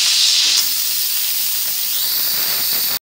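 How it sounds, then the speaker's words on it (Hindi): A pressure cooker cooking beef trotters releases its steam once the weight is lifted off, a loud, continuous close-up hiss that eases slightly after the first moment and then stops abruptly. "कुकर का प्रेशर रिलीज हो गया है।"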